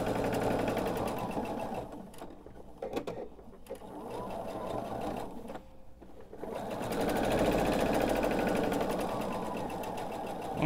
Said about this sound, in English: I'm going to pick back up at the end here and just sew over that little bit of stitching again